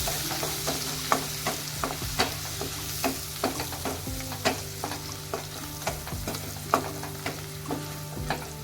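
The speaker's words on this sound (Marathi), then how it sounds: "त्यानंतर हळद थोडीशी कोथिंबीर पुन्हा एकदा मिक्स करून घेऊया" Turmeric and coriander get stirred into a sizzling spice tempering for a taro-leaf curry. Steady rhythmic scraping strokes ring out close over a constant loud sizzle, with no talking.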